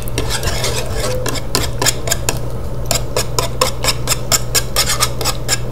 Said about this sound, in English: we're going to take our lovely whisk and we're going to mix it together.